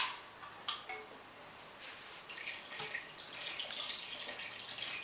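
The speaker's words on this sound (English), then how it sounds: "I have to add half the can coconut water." Coconut water pours from a can into a pot of caramelized pork and boiled eggs, a soft continuous splashing trickle that swells in the second half, fairly quiet with no talking.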